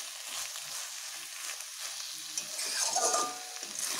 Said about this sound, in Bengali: শাকগুলোকে এই মশলার সঙ্গে ভালোভাবে কষিয়ে নেব